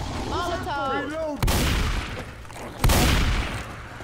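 Someone briefly speaks before two sharp, loud gunshots ring out about a second and a half apart in Left 4 Dead 2, each followed by a decaying rumble.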